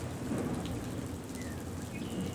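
Storm in the video game Syberia: The World Before, with steady dense rain and a low rolling rumble of thunder underneath, constant and fairly loud throughout with no voices.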